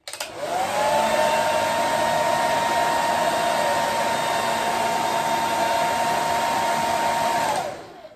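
A hair dryer roars loudly and steadily at its third setting, spinning up at the start and winding down near the end.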